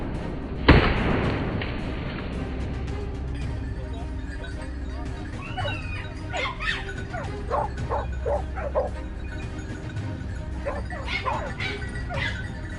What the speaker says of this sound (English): I whistled, calling the dogs to search for the boar's body further below